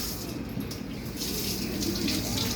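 Water gushing steadily from a tap in a hotel bathroom, a loud, close, unbroken hiss that grows slightly fuller toward the end.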